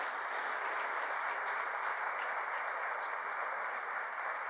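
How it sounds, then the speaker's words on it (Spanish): An audience at a conference hall in Mendoza applauds, a steady, even wash of many hands clapping, heard from some distance and fairly soft. "es un aplauso para los Andes y su incorporación"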